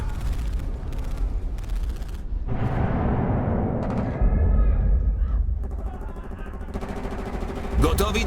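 Bursts of heavy machine gun fire in the video game Iron Harvest crackle and boom amid busy battle noise, with rapid firing stretches and explosive thumps throughout.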